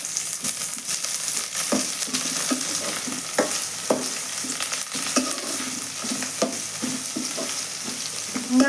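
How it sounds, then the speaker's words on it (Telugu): Onion pieces and curry leaves fry in a pan with a bright, steady sizzle, punctuated throughout by regular scraping and tapping strokes of a spoon stirring them close by. "ఇంకా కొద్దిగా బాగా ఫ్రై చేస్తానండి, ఎందుకంటే ఉల్లిగడ్డ ముక్కలు పచ్చివాసన పోవాలి కదా."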